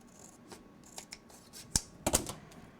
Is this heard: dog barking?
no